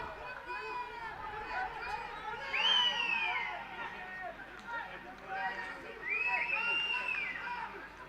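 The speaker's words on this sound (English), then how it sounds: "You could hear the supporters out here cheering for the team" Football supporters at a Bhutan Premier League stadium match produce a steady distant crowd murmur that swells twice into louder cheering, while a commentator talks over it.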